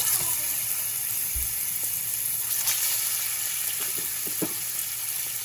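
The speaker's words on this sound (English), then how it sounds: "I want you guys to hear the nice sizzle from the oil" A steak sizzles steadily in hot oil in a frying pan on a stovetop, a constant crackling hiss with occasional small pops.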